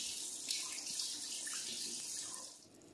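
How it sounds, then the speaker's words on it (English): Hot water runs steadily from a kitchen tap, a candy thermometer held under the stream while divinity candy is being made; a continuous close hiss and splash with no voices. "So I'm going to run it under some hot water"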